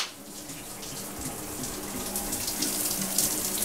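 Water running steadily in a shower on a film set as an actor gets ready to go out, a continuous broadband hiss and splatter that holds even and close throughout with no talking.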